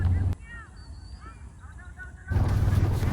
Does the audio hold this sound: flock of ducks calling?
yes